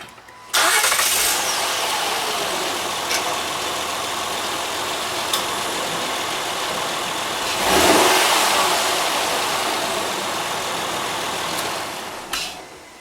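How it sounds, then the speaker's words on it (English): A Honda Odyssey engine starts and runs for several seconds, close and steady, with one small rev partway through before cutting off. "just running my engine for maybe about 5 seconds, and I even gave it a tiny bit of a rev"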